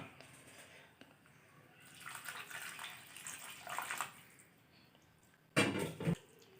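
A little water is poured into a mushroom and potato masala curry in a pan. There is a soft, fairly quiet splash over a couple of seconds, followed by a brief louder clatter, over low room noise.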